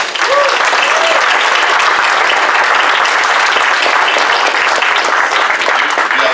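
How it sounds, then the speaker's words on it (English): Audience applause at a convention voice acting panel: a steady, dense burst of many hands clapping that fills the room at full loudness, with faint crowd voices mixed in. "All right, give him a round of applause."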